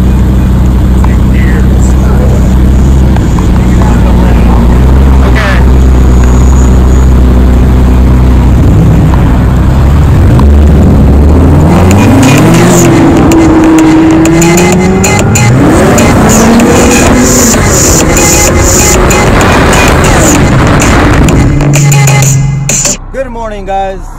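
Lamborghini SVJ engine idling low, then roaring through repeated loud revs that climb and fall, close by outdoors, with people talking over it.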